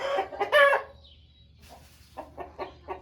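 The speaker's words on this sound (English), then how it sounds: "in this pen, there's a rooster and a guinea" A rooster and a guinea fowl in a farm pen give short, loud clucking calls at the start, then a faint chirp, followed by a series of softer, rhythmic clucks.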